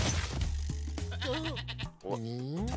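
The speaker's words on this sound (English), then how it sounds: "Oh, the goat." Goat in the Spyro Reignited Trilogy video game bleating in a wavering, quavering cry, loud and close, with a second rising bleat after a short break and game sounds beneath.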